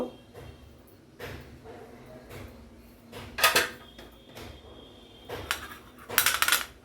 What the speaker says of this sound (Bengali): এবার আমি নিয়েছি একটা ইডলি স্ট্যান্ড, ইডলি স্ট্যান্ডে একটু করে তেল দিয়ে দেব